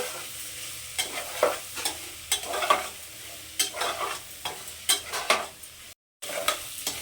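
Vegetables with half a spoon of chili powder sautéed in a pan, with a spoon scraping and stirring in repeated bursts over a steady low sizzle and one brief dropout near the end.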